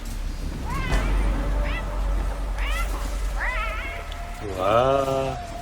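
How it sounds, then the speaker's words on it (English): Dying cry of a parrot in the video game Metal Gear Solid 3: Snake Eater, a string of strangled, cat-like wavering squawks that rise and fall over a low background hum, growing loudest near the end. "that apparently means the parrot died"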